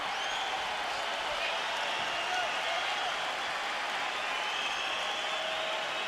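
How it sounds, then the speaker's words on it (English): Boxing arena crowd rising to its feet and applauding during a heavyweight bout, a continuous broad roar of clapping and crowd noise that stays even and full throughout, with no single voice standing out. "the crowd stands and applauds the action in the ring"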